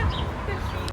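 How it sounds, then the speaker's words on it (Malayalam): Hens, apparently laying hens kept in cages on a strawberry farm in New Jersey, give a short burst of clucking at moderate volume over steady background noise. "ചിക്കനും ഉണ്ട്, നല്ല അടിപൊളി ചിക്കൻ."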